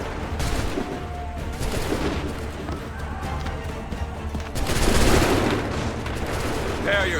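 Massed musket volleys in the Assassin's Creed 3 video game, loud, crackling gunfire bursts over a continuous battlefield din, with shouted commands among the soldiers.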